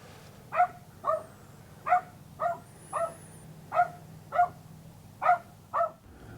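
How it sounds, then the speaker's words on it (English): A dog shut inside a camper at a campground barks in a steady, evenly spaced series of about ten sharp yaps, somewhat muffled and distant, over a low ambient hum. "you leave your dog in the camper to let it sit and bark the whole time"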